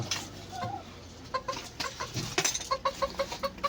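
An egg-laying hen clucks close by in a short run of rhythmic clucks that speeds up toward the end, mixed with some light handling noise and no clear speech.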